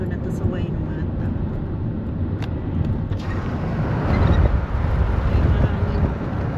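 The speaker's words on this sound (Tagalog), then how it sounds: "Mahangin." Wind blowing hard against a microphone from inside a car driving through Wainuiomata town in New Zealand, a steady buffeting rush with a low rumble and faint higher whooshes.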